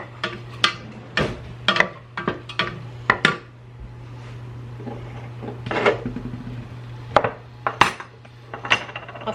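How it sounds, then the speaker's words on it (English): Minced garlic sautéing in a pan, heard mostly as a utensil repeatedly clinking and scraping against the metal in irregular taps over a faint steady hum, close up. "Let this saute for just a minute before we add our pork."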